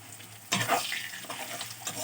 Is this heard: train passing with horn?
no